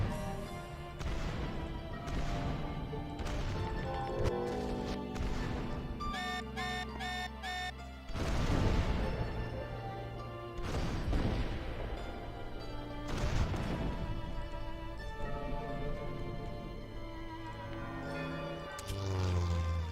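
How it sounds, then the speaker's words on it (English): Naval battleship bombardment pounding buildings in the strategy game Rise of Nations, with repeated loud booming blasts and crashing impacts over a continuous bed of game music, bell-like tones and a ringing tonal pattern mid-way. "These battleships do a tremendous amount of damage to the buildings."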